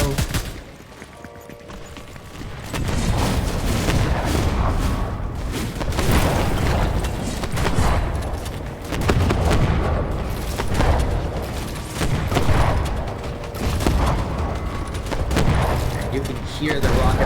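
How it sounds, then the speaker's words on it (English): Dense, continuous gunfire from a Fortnite match, with rapid bursts and heavy booming shots layered over each other throughout, a commentator talking over the top. "There's gunshots everywhere around him"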